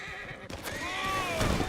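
Whinny of a horse in a video game: a loud, close, wavering neigh with falling pitch sweeps, heard over muffled hoof clops and game background.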